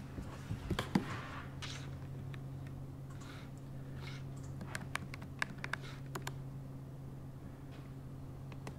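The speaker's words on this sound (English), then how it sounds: "I can type happily." Fingers type on the Gemini PDA's small built-in keyboard, producing quick, uneven bursts of crisp clicks and taps with short pauses between them. A low steady hum sits underneath.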